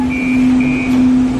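A steady electronic tone with a higher beeping chime plays over a rumbling San Francisco Muni Metro train hum as its doors slowly close.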